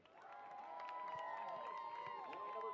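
A crowd cheers and shouts for a costume contest contestant, a sustained roar of voices with whistles rising and staying loud throughout.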